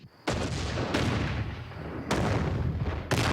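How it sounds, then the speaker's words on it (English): Homemade liquor explodes in a cartoon kitchen scene, sounding as a series of four heavy, booming blasts at uneven intervals, each sudden and loud, with rumbling noise between them. "Your homemade liquor is exploding again."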